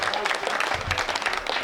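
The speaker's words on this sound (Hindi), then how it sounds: "तालियां बजाओ, थोड़ा सा लगना चाहिए।" Audience applause at a Hindi comic poetry recital, a dense wash of clapping from a crowd that holds steady and fairly loud through the short stretch, with no voices over it.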